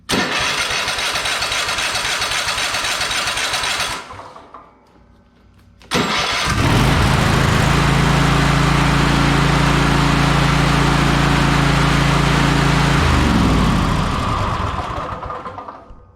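Cub Cadet Ultima ZT1 54-inch zero turn mower engine cranks briefly and stops, then restarts after a short pause and runs loud and steady at close range for about eight seconds before winding down.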